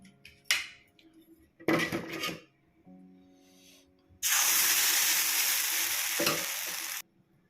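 Vellayappam batter being cooked in a pan one ladle at a time, with clinks and short scraping bursts followed by a loud, sustained hiss lasting about three seconds before it cuts off; no talking.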